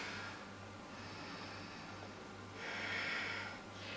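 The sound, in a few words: breathing during vinyasa yoga pose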